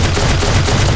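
A robot fires on the player in a video game: a dense, loud burst of rapid gunfire pulses, close and unbroken for the full second.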